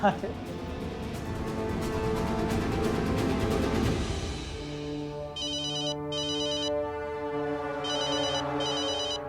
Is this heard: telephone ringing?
yes